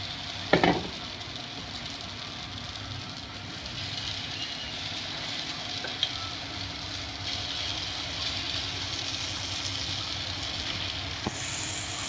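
Val bean pods frying in oil with a steady, close, continuous sizzle and hiss throughout, broken only by a sharp clatter near the start and a light tap near the end.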